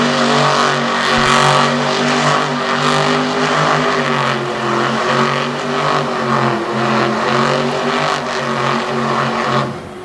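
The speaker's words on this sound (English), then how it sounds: "Now we get an angry drive in Zane Ritu throwing down some awesome cycles" A monster truck engine revs loud and close during a freestyle run, a steady roaring drone that holds for about ten seconds before easing slightly at the end.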